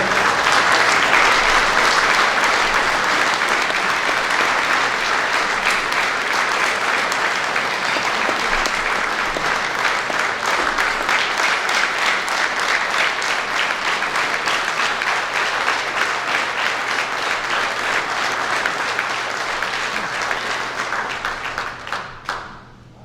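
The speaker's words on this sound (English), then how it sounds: "I would love for everybody to give a round of applause for all those who served" Sustained, dense applause from a dinner audience honoring veterans at a Veterans Day social, steady and loud for over twenty seconds before tapering off at the end, with almost no talk.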